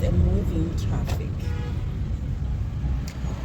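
Moving road traffic rolls past as a steady broadband rumble of passing cars, with a voice briefly audible at the start.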